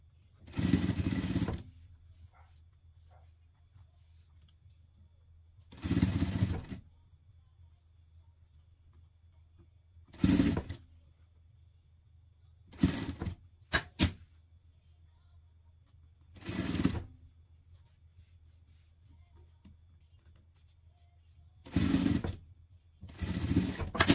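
Sewing machine topstitching the seams of a small pet outfit, running in several short bursts of rapid whirring stitching separated by quiet pauses, close by.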